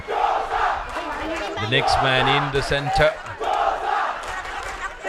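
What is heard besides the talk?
rugby crowd cheering for the blue and whites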